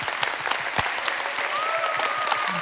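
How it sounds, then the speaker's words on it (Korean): A church congregation gathered for a pastors' question-and-answer concert event claps together in loud, dense, sustained applause that fills the sanctuary from start to finish. "감사의 박수 한번 드렸으면 좋겠습니다"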